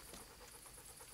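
A dog pants in the medieval video game Kingdom Come Deliverance, a steady quick breathy rhythm heard close and alone for about a second.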